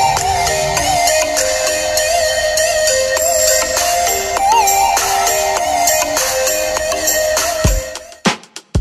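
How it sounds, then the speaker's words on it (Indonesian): Music plays at full volume through the small built-in speaker of a Sony Xperia XZ2 Compact phone, a bright, tonal melody with layered notes that runs steadily then cuts off into a few sharp knocks. "Dan ini dia suara yang dihasilkan dari Sony X1 Compact ini."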